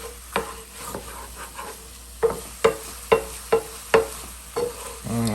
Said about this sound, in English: That way I can kind of scrape the bottom here so it doesn't get stuck to the pan.